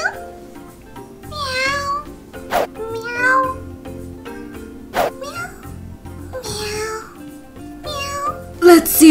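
A cat meows repeatedly, close and fairly loud, its rising and falling cries spaced out with sharp clicks in between.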